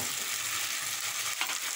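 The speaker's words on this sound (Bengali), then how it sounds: "ফুলকপির সঙ্গে আমি আলুগুলি দিয়ে দেব।" Cut potatoes go into cauliflower already frying in a pan: a steady, close sizzle of hot oil throughout, with a brief clatter near the end as the pieces drop in.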